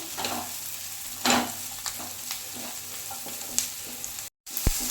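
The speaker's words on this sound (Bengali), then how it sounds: "এরপর দিয়ে দেবো আদা কুচি। ভালোভাবে নেড়ে দিয়ে নেবো।" Chopped ginger fries in a pan for butter chicken, a steady soft sizzle broken by several scraping stirs of a spoon and a sharp clack near the end.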